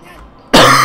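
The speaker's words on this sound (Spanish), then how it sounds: "Me voy a pasar todo el episodio tosiendo" A single loud, close cough bursts out abruptly after a moment of quiet background sound from a World of Warcraft: Legion game session.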